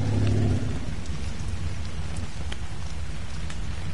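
Steady rain pours in the Ark survival game, a continuous dense patter with scattered louder drops, and a low rumble fading in the first half second.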